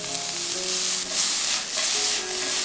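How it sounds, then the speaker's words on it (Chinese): Bean sprouts stir-fried over high heat in a wok, a steady loud sizzle with tossing bursts and scraping every second or so, close and continuous, with no voices. "然后捞出豆芽下锅，快速颠锅翻炒至豆芽断生"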